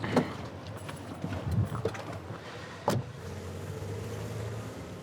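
A car drives through Saint-Jean-Cap-Ferrat near Nice with a steady low road rumble, broken by a few knocks and clicks from the cabin and one sharp thump about three seconds in.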